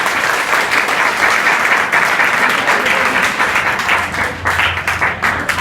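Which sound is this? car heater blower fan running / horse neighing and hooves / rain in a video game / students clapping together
students clapping together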